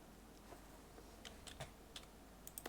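Quiet keystrokes on a computer keyboard as a console command is entered for Skyrim, a short run of light taps spread unevenly over a few seconds with no talking.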